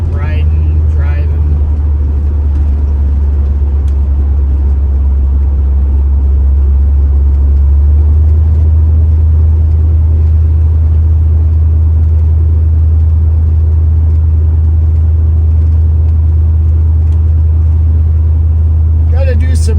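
A soft-riding cruiser car, in need of rear brake work, heard from inside while driving: a steady, loud low road and engine rumble that stays even for the whole stretch.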